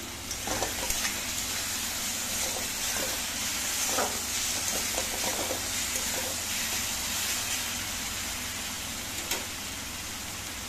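Eggplant frying in a pan over a gas flame, a steady dense sizzle running throughout with scattered pops and light crackles, no voices.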